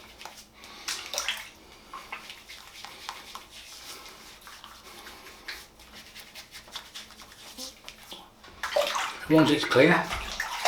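Water splashing in a sink as shave lather is rinsed off the face, with a brief voice at the start and a louder burst of splashing toward the end.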